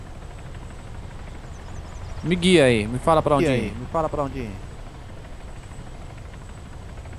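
A helicopter flies in the video game Arma 3, a steady broadband rotor and engine wash running throughout while someone talks over it midway.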